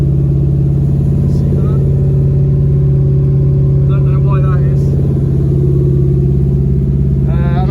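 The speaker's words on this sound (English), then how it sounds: "It's idling really high" An LS-swapped second-generation Firebird V8 idles high and steady, a loud continuous mechanical drone with an even pulse throughout, and brief chirps and bits of speech over it.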